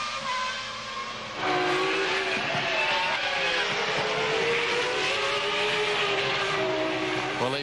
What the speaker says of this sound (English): There's Michael keeping to the moisture, going up the hill into Les Combes.